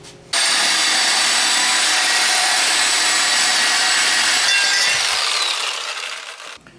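A power tool cuts through the exhaust pipe of a 1995 Jeep Grand Cherokee with a 4.0L engine. The harsh, steady metallic grind is loud and close, runs for several seconds, then winds down and stops.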